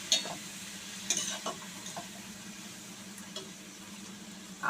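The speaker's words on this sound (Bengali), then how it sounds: "এবার মশলাগুলোকে ভালো করে কষিয়ে দিচ্ছে।" Spices with chilli powder are fried and stirred in a pan, a low faint sizzle with a handful of soft scraping strokes and light utensil taps spaced through.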